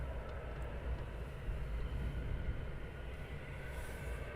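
Several EasyJet airliners taxi at Luton Airport in the early morning, giving a steady, broad low engine rumble that holds even and fairly loud throughout, with no voices over it.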